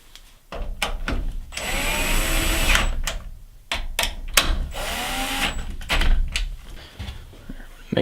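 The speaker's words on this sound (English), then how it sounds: "Put your screws back in." Power drill driving screws back into a washing machine: two long whirring bursts, each ramping up and holding, broken by short clicks and handling knocks, close and fairly loud.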